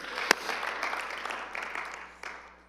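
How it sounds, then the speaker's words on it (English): Audience applause at a senior speakers event, a brief, fairly faint round of clapping that fades out over a couple of seconds. "one more round of applause"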